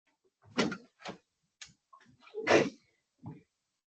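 A sharp burst around two and a half seconds, likely a sneeze, among several short scattered noises and bumps in a quiet room.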